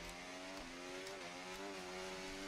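Race car accelerating out of turn one at the Hungary round of a driving video game, a steady high engine note climbing in pitch, faint and continuous with no talk.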